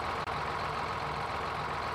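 A tractor engine in Farming Simulator 19 drones steadily at a low, even pitch, running without letup apart from one very brief dip near the start.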